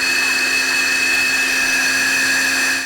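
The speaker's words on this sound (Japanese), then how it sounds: "ミキサーできました。 おー、粉になったぞ。" A kitchen blender runs steadily at high speed, grinding dry ingredients into powder, with a loud, constant whirring motor drone throughout.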